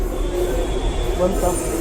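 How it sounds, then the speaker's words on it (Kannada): A train rumbles steadily nearby with a low continuous roar and faint rail squeal, the sound of a metro pulling into a station. "ನಮ್ಮ ಮೆಟ್ರೋ ಬಂತು ನೋಡಿ"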